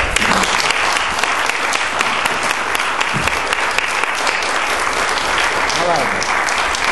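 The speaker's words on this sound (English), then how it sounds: "Get the applause out of the way up front." An audience applauds two guest speakers at a Holocaust and genocide lecture, a dense, steady wash of many hands clapping at full volume for the whole stretch, with a faint voice briefly underneath.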